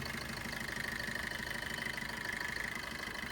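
A 2017 Maruti Vitara Brezza LDI(O) diesel idles with a continuous even drone and light ticking clatter, heard up close and unbroken, no voices present.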